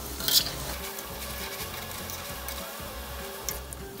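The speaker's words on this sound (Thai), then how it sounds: "เราก็ทอดกล้วยของเรานะครับ จนผิวด้านนอกเขาสุกเหลืองกรอบนะครับ" Banana pieces deep-frying in hot oil for crispy snow bananas make a dense, steady sizzle and crackle up close, with a few brief clicks, without speech.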